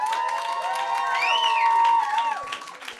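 A roast battle crowd in a New York comedy venue cheers and makes noise for a comedian, a steady sustained roar of voices with whoops and shouts rising across the moment, fairly loud and continuous.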